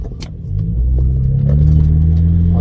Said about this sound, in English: I'm gonna try to do another pull real quick